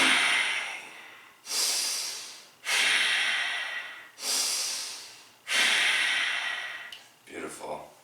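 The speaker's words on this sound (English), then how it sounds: "Take a deep inhale, fast. Fast exhale." Five forceful, rapid Kundalini yoga breaths, alternating sharp inhales and exhales through the nose, each a loud hissing rush of about a second separated by brief pauses, close to the listener.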